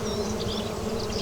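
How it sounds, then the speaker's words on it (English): Bees buzz around blossom on a farm, a close, steady droning hum with individual insects weaving past in brief higher whines, and no one speaking. "you guys will actually be able to hear the sound of the bees"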